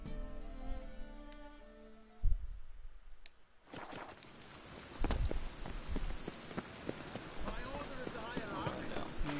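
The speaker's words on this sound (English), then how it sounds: "It's raining again." Steady rain patters and hisses on a surface in The Witcher 3 video game, with a brief thud partway through and a voice speaking over the downpour.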